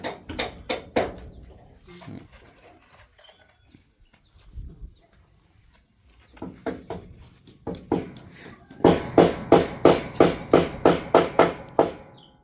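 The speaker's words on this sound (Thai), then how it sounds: "อันนี้ก็อยู่ในระหว่าง ตอกตะข่าย ตรงเสา" Hammering nails to fix wire mesh to a post during house construction, sharp metallic blows in quick bursts, sparse at first, then a long steady run of evenly spaced loud strikes close by.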